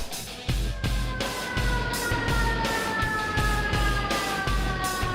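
An emergency siren wails at a collapsed-structure search and rescue site, loud and close, with rapid pulsing beats under a steady rising-and-falling tone and no talk.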